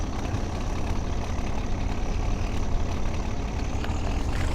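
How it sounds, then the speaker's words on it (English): A tractor engine in Farming Simulator 17 runs continuously at a steady, loud, rough low rumble, heard alone with no talk over it. "It's quite loud tractor, this one."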